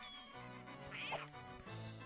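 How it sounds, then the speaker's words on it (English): A Donkey Kong 64 video game character lets out a short, cat-like meow with a rising and falling pitch, set against continuous game music. "Why do you sound like a cat?"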